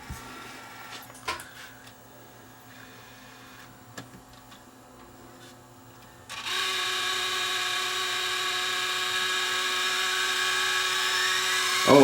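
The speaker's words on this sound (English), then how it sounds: "I think that's the capstan motor bearing." Worn capstan motor bearing in a Sony DSR11 DVCAM video deck: faint mechanical ticks and whirring at first, then a loud, steady, harsh whine that starts abruptly and keeps running close up.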